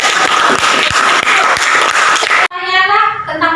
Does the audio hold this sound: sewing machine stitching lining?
no